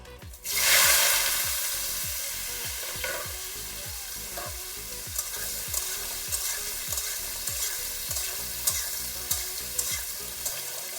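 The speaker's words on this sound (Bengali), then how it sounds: "তেলটা গরম হয়ে গেছে, এখন এই যে আলু আর ইঁচড়টা একটু ভেজে নেব" Potato and young jackfruit fry in hot oil for a jackfruit and chicken gizzard curry, a loud burst of sizzle on entry settling into a continuous crackle, punctuated by a rhythmic series of stirring scrapes.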